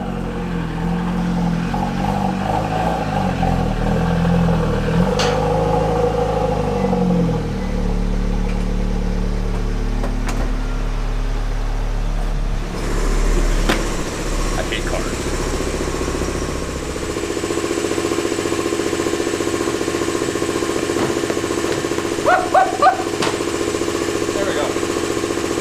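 Big turbo Abarth 124 engine running on a dyno, a loud steady drone that idles and revs before shifting to a lower tone partway through, with people talking over it.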